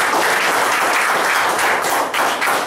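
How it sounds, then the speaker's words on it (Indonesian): Audience applause fills a seminar room, a dense, steady wash of clapping that runs loud throughout with no voices over it. "tepuk tangan dulu teman-teman"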